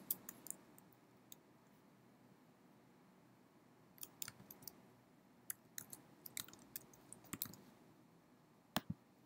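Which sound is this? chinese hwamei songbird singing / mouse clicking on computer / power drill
mouse clicking on computer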